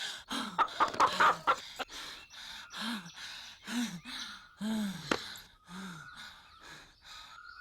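Hen squawking and clucking in a rapid series of loud, close bursts as it runs off, with excited gasps and breathing mixed in.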